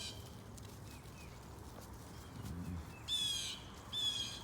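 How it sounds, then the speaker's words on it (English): Wild birds near a winter chicken yard give faint, scattered chirps and calls, with two brighter, louder bursts of chatter toward the end over a low outdoor rumble. "Those birds, usually when I hear a lot of chatter with that, there's usually larger birds in the area"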